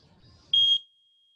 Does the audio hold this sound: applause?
no